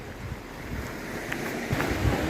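A small stream flows beside a forest hiking trail in a French nature park, giving a steady, close rushing of water with some wind buffeting and no voices.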